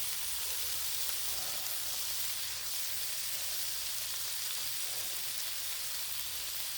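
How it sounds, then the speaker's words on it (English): Hissing, crackling sizzle from a Blackstone griddle cooking chicken for tacos, steady and fairly quiet throughout, with faint scraping textures from a spatula working food loose. "Okay, needs a little more scraping than I expected."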